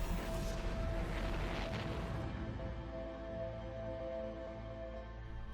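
A deep rumbling explosion in the Outer Wilds space game, a broad low boom that swells at the start and then settles into a sustained roar with tonal hum beneath it.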